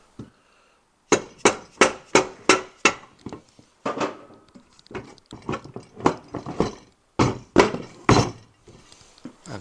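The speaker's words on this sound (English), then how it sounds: "So what we're going to do is pound these together." Ironhead engine cases for a chopper are pounded together on a makeshift workbench: a run of sharp, loud metallic blows in quick irregular bursts, some ringing clinks between, after a brief quiet start.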